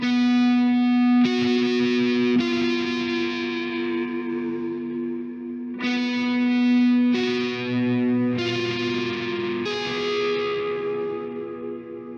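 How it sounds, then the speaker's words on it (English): Electric guitar chords through a Space Echo delay effect rung out one after another, each with a long echoing delay tail that repeats and fades, dense and spacious, no voices. "Then we have Space Echo. Once again, kind of these atmosphere types of guitar tones."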